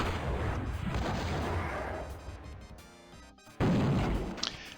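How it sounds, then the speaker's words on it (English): Weapons fire from the video game DOOM, a rocket launcher and chain gun, roars as a dense, loud, continuous barrage that dips briefly before a fresh heavy blast bursts in near the end. "fire off 1 rocket, and then go ahead maybe with the chain gun."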